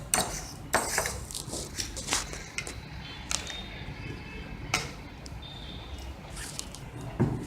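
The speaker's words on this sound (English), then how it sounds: "Mix the citric acid with your baking soda. Mix it in with a fork so that it mixes it, they blend together" A fork scrapes and clinks in a bowl while stirring citric acid and baking soda powders together for homemade toilet bombs, giving soft irregular scratching with a few sharper taps, close and fairly quiet.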